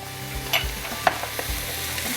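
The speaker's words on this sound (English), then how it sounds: "So we want to add it in while we're sauteing our vegetables" Vegetables sautéing with Creole seasoning in a pot for island-style gumbo, giving a steady low sizzle broken by a few sharp clinks and scrapes of a stirring spoon close by, with no talking.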